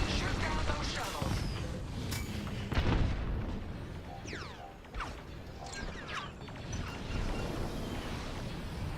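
Starfighter cannons firing at enemy shuttles in Star Wars: Squadrons, with dense bursts of laser blasts, sweeping whooshes and distant booms layered over a constant engine roar, and voices talking through the action.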